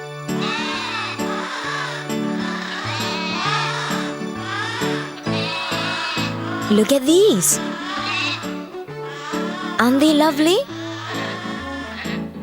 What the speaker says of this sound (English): These are called sheep.